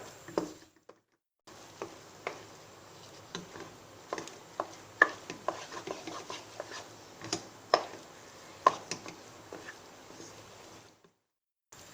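Besan halwa with dry fruits being stirred in a pan, a spoon scraping and tapping in an irregular rhythm of close, crisp clicks and scrapes over a soft background hiss, with no talking.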